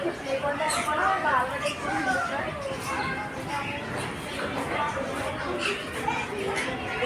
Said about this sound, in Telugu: ఇది ఆఫ్రికన్ లవ్ బర్డ్ అంటారు దీన్ని.